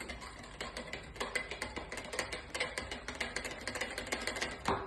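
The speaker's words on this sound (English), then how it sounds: "Now I'm whisking my chocolate mixture to make it thick." A whisk beats a chocolate mixture in a bowl, making rapid, rhythmic clicking strokes that scrape and tap against the sides, faint and close, with no talking.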